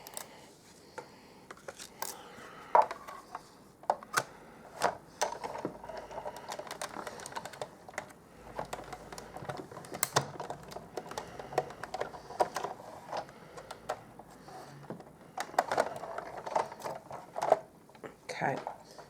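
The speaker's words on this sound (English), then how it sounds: "Just get my die cutting machine and I'm going to cut that out." A die cutting machine cranks a paper image through with uneven mechanical clicks, whirs and clunks at close range, while a voice talks over part of it.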